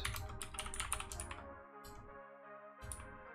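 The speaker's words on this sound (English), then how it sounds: "Oh, I messed up the typing." Fingers type on a computer keyboard during programming work, a quick close run of crisp key clicks, a pause, then a few more taps.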